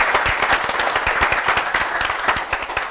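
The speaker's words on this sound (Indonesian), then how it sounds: "Tepuk tangan untuk yang bertanya lagi" A short burst of steady audience clapping fills the room at an Indonesian podcast talk event, a moderate crowd applauding for the person who asked a question, with no speech over it.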